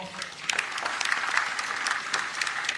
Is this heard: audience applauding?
yes